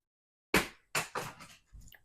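Sunglasses dropping onto the floor of an upstairs bedroom in a house, striking hard once and then bouncing three more times with quickly fading, clattering impacts, heard up close with no talking.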